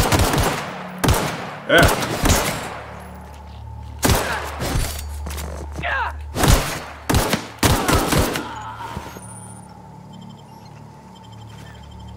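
Gunfire from a weapon in The Outer Worlds, several sharp shots and short bursts with gaps between them, loud and close over a low ambient hum, with a brief spoken word.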